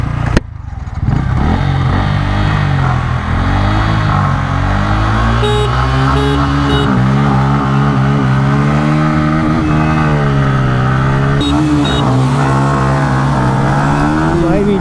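A 2022 Bajaj Pulsar N160 and a Yamaha MT15 V2 race on the road, engines loud and close, rising and falling as they rev through the gears without a break.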